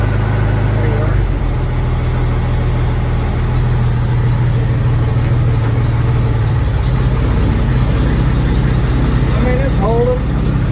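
Engine of a cab-over Chevy van conversion idling steadily up close, a low continuous rumble throughout with a person talking over it.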